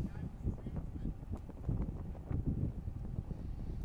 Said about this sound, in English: Feel the wind, pretty variable still right now.